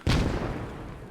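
An artillery shell scores a direct hit in the military shooter Squad, a single loud explosion that bursts at once and rolls off into a long, fading rumble.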